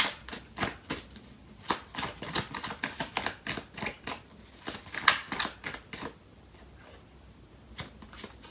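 Tarot cards being shuffled by hand, a rapid run of crisp papery riffles and slaps with short gaps, close and fairly quiet, fading to a few softer taps at the end.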